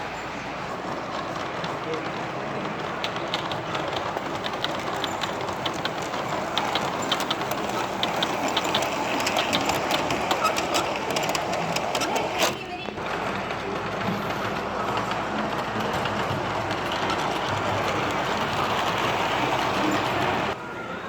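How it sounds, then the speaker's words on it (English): A model train runs steadily through a model railroad museum, a continuous rolling, rattling rumble that holds at a constant level for the whole stretch with voices murmuring in the background. "I guess someone started up the train, I guess. Oh, and I hear it coming."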